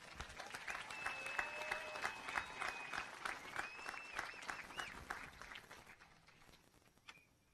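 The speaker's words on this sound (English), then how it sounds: "let's give a round of applause to the class of 2025" Applause for the graduating class of 2025 at an ECSD graduation ceremony, a steady crowd of hands filling the hall and fading toward the end, heard fairly faintly, with some whistling tones in the mix.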